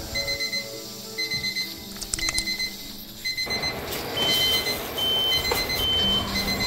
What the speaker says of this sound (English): The smoke alarm is going off, and that is kind of bad.